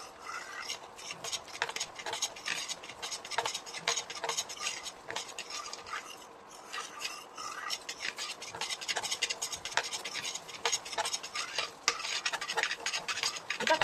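A spoon repeatedly scrapes and stirs a thickening milk mixture in a pan, with close, steady strokes and faint sizzling beneath.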